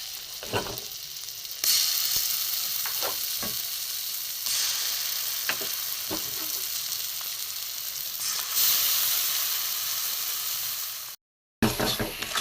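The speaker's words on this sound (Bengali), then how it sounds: "কষিয়ে নিচ্ছি মটরশুঁটি পেস্টটা মশলার সাথে" Pea paste being sautéed with spices in a pan for pea-stuffed parathas: a steady, close sizzle swells in stages as the paste is stirred, punctuated by scattered scrapes and clicks, with a brief cut near the end and no talking.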